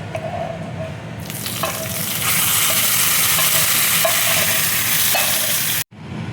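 A tadka with curry leaves is poured into cucumber pachadi, a Kerala dish, off the heat. A sudden loud sizzle bursts up, swells into a steady hiss and cuts off abruptly near the end.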